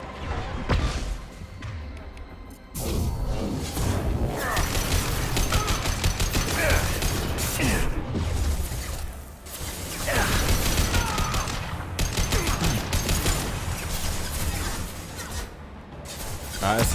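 Soldiers fire assault rifles in the sci-fi game Mass Effect 2, Arrival DLC: sustained, loud rapid gunfire bursts that run almost continuously, with brief lulls between volleys.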